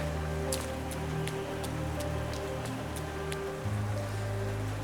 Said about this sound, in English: I love the little splashes every time I land.